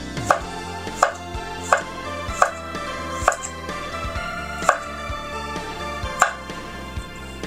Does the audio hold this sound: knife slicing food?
yes